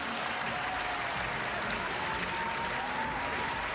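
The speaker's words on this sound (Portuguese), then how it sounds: "Aqui, as palmas." Steady applause sound effect played during a live football stream for a São Paulo versus Avaí Brasileirão match, a dense wash of clapping held at even level for nearly four seconds with no voices over it.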